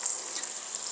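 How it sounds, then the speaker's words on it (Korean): Shrimp cooking gently in olive oil in a wide pan for gambas, giving a steady, close hiss of sizzling oil with no talk. "이 새우는 올리브유에다 튀기는 것, 프라이 하는 게 아니라 익히는 것입니다"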